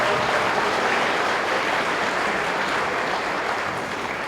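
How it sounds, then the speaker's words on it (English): Audience at a school sixth-grade spring band concert applauding, dense sustained clapping from a crowd that holds steady and fades slightly toward the end, with no speech over it. "Can we clap for Mrs. Blevins as well, please?"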